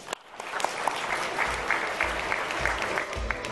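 An audience at a sports awards ceremony applauds, a dense, steady wash of clapping from a hall crowd with a faint voice briefly beneath it.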